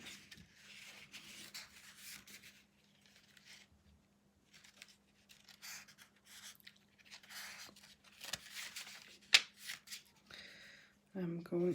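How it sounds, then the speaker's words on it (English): Tarot cards being shuffled by hand, soft repeated riffling and rubbing bursts at close range, intermittent and fairly quiet, with low murmured speech between them. "I did pull an extra card for him."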